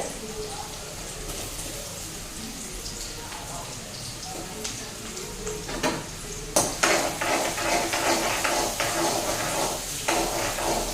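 Green chillies frying in oil in a pan on a stove at high heat for chicken curry, a steady sizzle with occasional stirring clatters that grows louder and busier in the second half.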